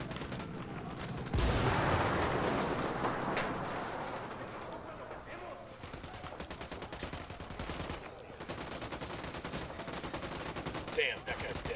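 Gunfire in the Tom Clancy's Ghost Recon Wildlands video game, rapid bursts and sustained automatic shooting at moderate distance, continuous throughout with a sharp crack near the end and faint voices underneath.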